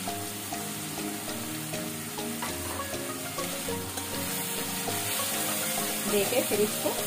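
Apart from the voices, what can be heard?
spices (cumin, coriander, Kashmiri chilli powder) frying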